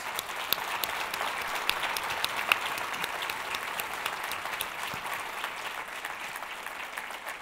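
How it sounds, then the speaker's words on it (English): Audience at a PDS Connect 2017 innovation panel discussion applauds the panelists, an even, continuous crackle of many hands clapping, moderately distant and sustained throughout. "please help me give a warm round of applause to our panelists"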